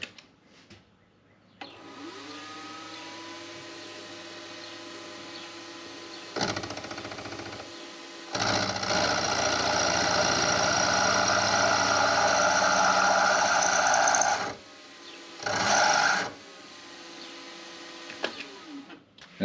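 A beginner's milling machine runs while machining a thumb screw. A steady motor whine hums throughout, with two louder, harsher cutting bursts.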